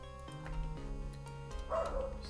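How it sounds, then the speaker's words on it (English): A dog barks and yips indoors in the background, steady music or a sustained tone running underneath throughout. "Oh, sorry if you can hear my dog."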